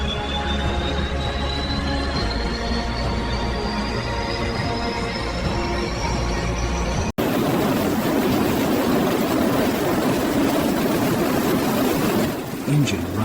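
A fighter jet engine runs at power with a loud, sustained roar and a steadily rising whine, then cuts to a broader, rougher rushing roar. Speech is heard in the clip.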